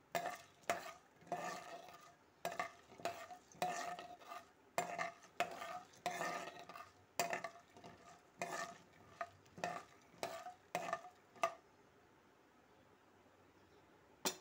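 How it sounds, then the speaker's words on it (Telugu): Urad dal and chana dal are stirred in a pan with a spoon. Repeated close scraping strokes sound over a faint sizzle for about eleven seconds, then things go nearly quiet. There is no talking. "ఒక 2 స్పూన్స్ దాకా మినప్పప్పు వేసుకొని ఈ రకంగా వేయించుకోండి"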